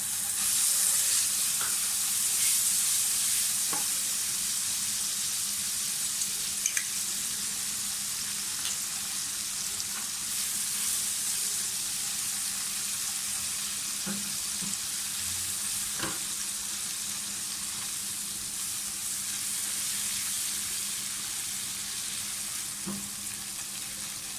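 Garlic ginger paste frying in oil in a pan, a continuous bright sizzle and hiss that holds steady throughout, with a few faint utensil taps and scrapes.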